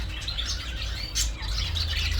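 Small caged birds, including mynas and finches, chirp and tweet in a busy pet market. The bright calls overlap against a steady low hum of background noise, with no voices.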